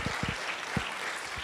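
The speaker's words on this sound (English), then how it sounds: "Give Sammy and Vaz a big round of applause" An audience at a talk gives a round of applause to two presenters, a dense, fairly faint wash of many clapping hands that stays even throughout, with a few low thumps underneath.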